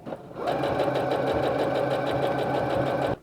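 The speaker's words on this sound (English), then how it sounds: "To close the ears, you just tuck in the loose ends and top stitch over it." A sewing machine top-stitches over the tucked-in ends of a fleece ear on a bunny hoodie, a steady, fast mechanical hum and rapid needle rattle running close and loud for about three seconds before stopping abruptly.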